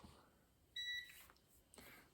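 A short multimeter beep, a steady high tone lasting about a quarter second, over quiet room noise.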